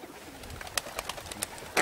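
Racing pigeons coo softly nearby in a loft amid scattered sharp clicks and light rustling, over a low steady background.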